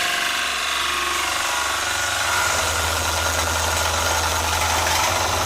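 A wood lathe turning a bowl, with the tool held far out over the tool rest, gives a loud, steady mechanical hum full of rough vibration and chatter that swells slightly partway through.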